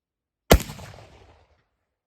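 One sharp, loud shot from homemade black powder cracks out alone, its blast fading quickly into a short rumbling tail.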